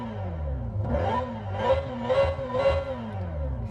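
A synthetic engine hum from a 2025 Hyundai Ioniq 5 N electric car drones and rises in pitch, swelling in a few rhythmic surges like a futuristic motor revving, fairly close and steady.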